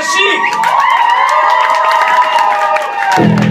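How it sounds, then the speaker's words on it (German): A live concert audience in Jena cheers and whoops for a band at an Emergenza show, with loud, continuous crowd noise and applause filling the room. "Viel Spaß, großer Applaus mit"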